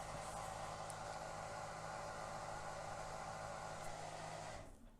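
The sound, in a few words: dishwasher running in the background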